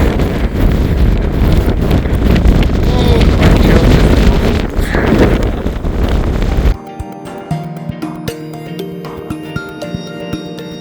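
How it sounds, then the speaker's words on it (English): Strong wind buffets the microphone on the summit of Stob Dearg, Buachaille Etive Mòr, in Glencoe, roaring loudly and steadily for several seconds before cutting off abruptly to much quieter surroundings. "Just to get out of the wind."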